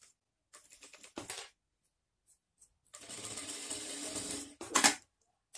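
An industrial straight-stitch sewing machine stitching in short bursts. The near, rapid mechanical chatter starts and stops between quiet gaps, with a longer run toward the end, and no talking.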